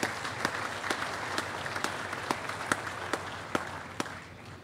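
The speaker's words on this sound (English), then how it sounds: "Give him a big round of applause." At a precision agriculture summit, an audience claps steadily as a speaker from a farm equipment company's technology group comes up to the stage. The applause is a full, even wash with a few louder individual claps standing out.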